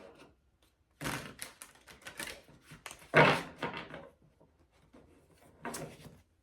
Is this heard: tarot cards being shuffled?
yes